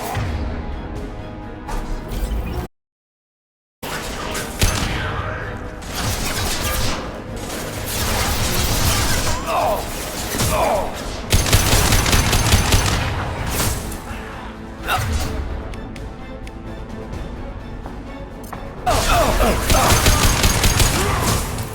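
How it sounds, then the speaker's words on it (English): Heavy gunfire and explosive crashes fill a battle on Tuchanka in Mass Effect 2, with dense sustained volleys of shots and impacts, loud and close, broken by a brief silent gap early on. "Taking heavy fire!"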